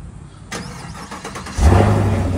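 A 2021 Chevrolet Camaro V8 cranks and fires up close by, a short starter whir followed by a loud, deep rev that settles into a rumbling idle.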